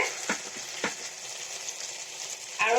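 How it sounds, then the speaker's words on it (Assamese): Local chicken frying in butter in a pan, giving a soft, steady sizzle with a few sharp stirring scrapes and a brighter burst of spattering at the end. "এনেকৈ অলপমান ভাজিম এতিয়া দেখিছেনে মোৰ চিকেন প্ৰায় ভাজা হৈ গৈছে"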